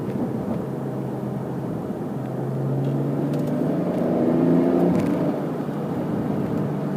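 A 2017 BMW X4 M40 engine pulls steadily under acceleration, heard from inside the cabin. The drone rises and shifts pitch as the 8-speed automatic moves up through the gears.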